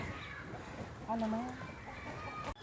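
A brief chicken cluck or squawk rises out of quiet background noise, faint and somewhat distant, followed by a short bump.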